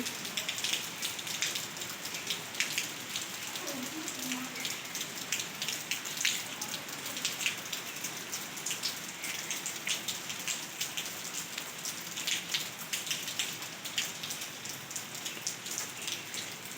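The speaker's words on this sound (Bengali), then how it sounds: "এখন আবার আস্তে আস্তে বেশ জোরে পড়ছে" Heavy rain pours steadily after a hot sunny day, a dense, even hiss of drops striking surfaces nearby, with scattered louder patters and no voices.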